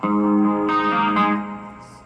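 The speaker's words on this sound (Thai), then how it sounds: "เสียงคีนแบบมีคอรัส" Clean electric guitar with a shimmering chorus effect from a Korg AX3000G multi-effects unit, a few ringing chords struck and left to sustain and fade.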